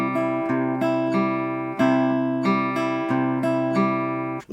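Fingerstyle acoustic guitar picks a pattern, clear plucked notes in a steady rhythm with ringing harmonics, played alone and close.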